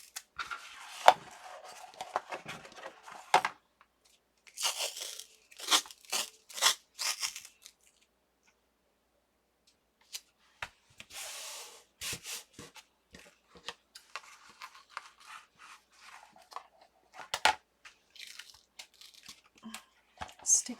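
Medical tape is torn and handled while building a junk journal from packaging. Close, sharp ripping and crinkling bursts come in irregular clusters separated by near-silent pauses.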